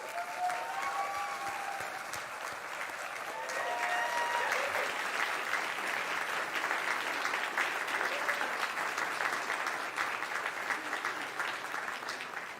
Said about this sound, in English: Let's extend a warm round of applause to the 2024 North Carolina Teachers of the Year.